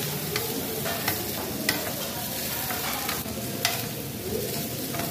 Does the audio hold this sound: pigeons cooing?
no